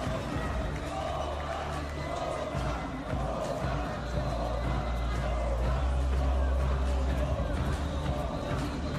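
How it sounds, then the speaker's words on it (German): An arena crowd at a featherweight championship fight event applauds and cheers for the new champion, a dense, steady roar of claps and shouts mixed with babble throughout. "Großen Applaus für den neuen NFC Federgewichtschampion Max Kogan."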